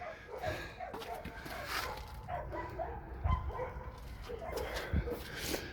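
Dogs bark and whimper at a closed animal shelter, heard faintly and at a distance under steady outdoor background noise, with a couple of sharper yips standing out.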